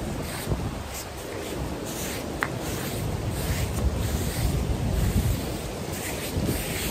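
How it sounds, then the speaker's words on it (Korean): Strong seaside wind at Nha Trang, Vietnam, roars steadily against the microphone, with surf washing in underneath and no talking. "근데 생각보다 바람이 많이 불어가지고"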